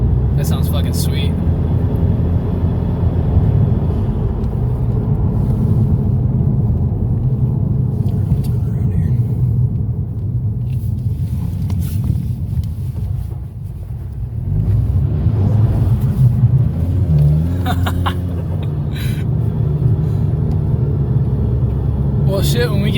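A 500 hp turbocharged EcoBoost Mustang engine accelerates hard, droning loudly from the cabin with a brief dip at a gear shift before pulling again, while people talk over it.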